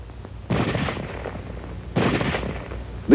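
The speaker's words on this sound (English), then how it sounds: "Now let's look at weapons which have both automatic fire and semi-automatic fire." Two separate bursts of firearm fire ring out from a weapon with selectable automatic and semi-automatic modes, each about half a second long, loud and close against a quiet background.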